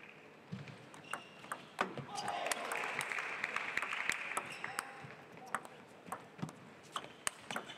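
Stadium crowd at the 2017 India Open table tennis, in a round-of-16 match between Yuto Muramatsu and Achanta Sharath Kamal, breaks into sustained applause, with sharp claps standing out through a broad wash of clapping. Voices murmur in the background.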